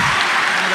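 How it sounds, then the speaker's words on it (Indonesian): A brief burst of audience applause for the speakers at a talk event, dense and continuous clapping. "Baik, kita kasih tepuk tangan buat all the inspiring speakers"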